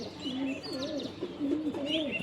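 Several pigeons coo in soft, rolling phrases that repeat steadily through the clip, close by and fairly loud, with a few light chirps mixed in and no talking.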